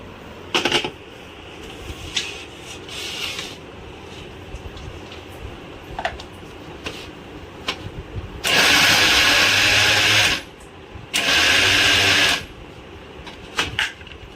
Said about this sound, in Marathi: आता हे असं झाल्याच्या नंतर हे बघा आपल्याला परत मिक्सरला लावून घ्यायचं आहे